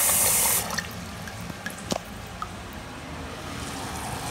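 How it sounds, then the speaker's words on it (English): Water poured into a cooking pot holding vegetables, a brief loud splashing rush at the start followed by quieter trickles and a few small drips and clinks, close by with no talking. "Just gonna add a little bit of water."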